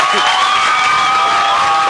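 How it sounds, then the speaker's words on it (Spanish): Dense audience cheering and applause with whoops and shouting voices, a steady loud crowd roar throughout, during a Latin comedy stage show. "Aplauso, aplauso"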